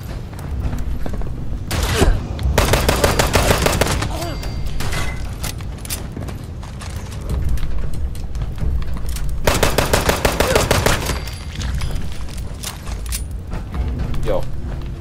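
Gunfire in Fallout 76 rattles out in long, dense machine-gun bursts that stop and start again, loud and close, with players talking over the shooting.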